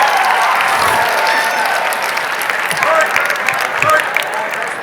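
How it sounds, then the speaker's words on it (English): A large convention audience at the BBYO International Convention 2016 plenary applauds in a dense, steady wash of clapping that holds for the whole stretch, with scattered voices and a few cheers mixed in. "are you applauding for the hooking up or for the beyond hooking up?"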